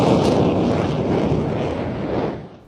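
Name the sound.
JF-17 fighter jet flying and climbing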